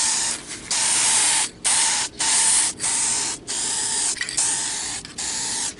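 An aerosol can sprays adhesive promoter onto a 2004 Toyota Sequoia mirror in a series of steady hissing bursts separated by short pauses, close and loud, with no voices.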